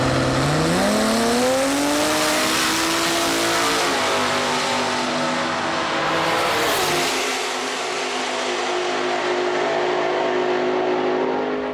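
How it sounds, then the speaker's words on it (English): A Nissan 260Z fitted with a 3-litre OS Giken engine revs hard, its pitch climbing through rising harmonics before easing off, then holding a steady high drone, loud and close, with no talk. "Kojima's 260Z was now running an OS Geekin 3-litre engine."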